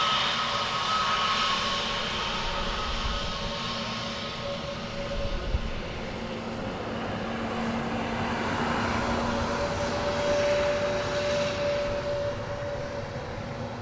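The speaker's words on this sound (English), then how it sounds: "So, Emirates in from Dubai. Our 777-300." An Emirates Boeing 777-300 arriving from Dubai lands at Dublin Airport, its engines a steady broad roar with a faint tonal whine, holding at moderate distance throughout with no voices.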